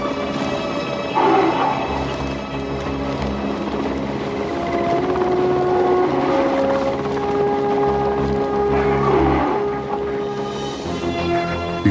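A helicopter flies low over snowy taiga forest while tracking a tiger, its steady rotor drone and engine whine sustained and close, swelling slightly at moments throughout.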